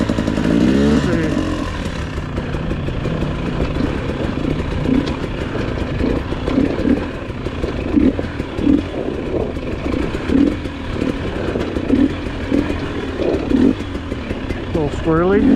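A 2022 GasGas EC300 two-stroke dirt bike ridden off-road, its engine buzzing and revving continuously up close through first gear with ragged throttle changes, a rider's voice occasionally heard over it.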